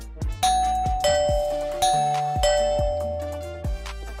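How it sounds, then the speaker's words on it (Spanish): A doorbell chimes insistently, close and loud, with repeated ding-dong tones in quick succession, each ringing out briefly before the next press, with no voices over it. "el timbre resonó con insistencia"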